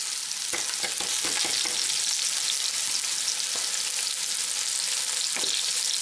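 Hog testicles and onions sautéing in a pan give a steady, dense sizzle and crackle with occasional stirring scrapes, close and continuous throughout.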